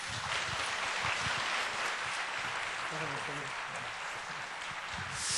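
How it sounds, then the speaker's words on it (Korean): Steady applause from a church congregation during a Sunday service fills the room, an even wash of clapping that continues throughout at moderate volume. "박수로 한번 하셨습니다"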